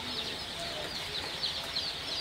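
Sonali super hybrid chicks in a brooder give off a dense, steady chorus of high-pitched peeps and chirps, many overlapping at close range with no voices.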